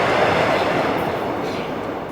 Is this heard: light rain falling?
no